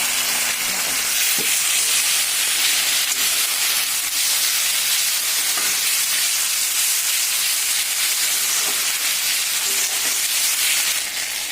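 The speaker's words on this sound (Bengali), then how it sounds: "পেঁয়াজগুলো ভাজা হয়ে গেছে, তাই আমি এর মধ্যে দিয়ে দেবো আদা, রসুন আর জিরে একসাথে মশলা।" Ginger, garlic and cumin paste sizzles steadily in a pan of fried onions, a constant loud hiss with a few faint clinks of stirring, no voices.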